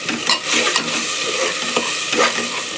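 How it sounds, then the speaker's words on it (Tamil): Chicken sautéed and stirred in masala in hot oil, a loud continuous sizzle broken by repeated scraping strokes of a spoon against the pan, close up with no voices. "வதக்கி இதில் சிக்கனை போட்டுக்கணும்"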